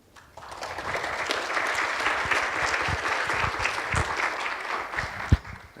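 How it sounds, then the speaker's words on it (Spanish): A large audience applauds steadily for about five seconds to welcome Dr. Pablo Ruiz at an academic colloquium on optical tomography, a dense wash of clapping that fades out at the end. "recibamos con un fuerte aplauso al doctor Pablo Ruiz"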